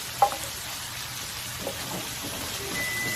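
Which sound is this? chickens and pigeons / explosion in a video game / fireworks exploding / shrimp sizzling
shrimp sizzling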